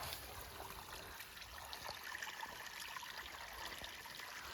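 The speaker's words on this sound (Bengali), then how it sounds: "ওই যে মোটা পাইপটা সাদা রঙের এটা দিয়ে যে আলু খেতে জল দেওয়া হচ্ছে" Water pours steadily from a thick white pipe into a potato field, a continuous close rushing trickle with no voices over it.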